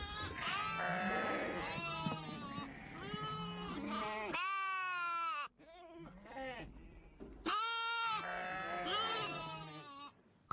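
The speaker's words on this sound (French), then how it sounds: "Quand tous les agneaux sont rassasiés, Ali et Hussein rentrent les bêtes." Lambs and sheep or goats bleat repeatedly and loudly in a winter High Atlas village at 2400 m, with overlapping calls from several animals close by and brief pauses between bursts.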